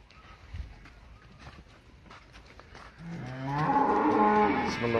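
A young heifer lets out one long, deep moo, near and loud, that builds up partway through after a few scattered shuffling and thumping noises.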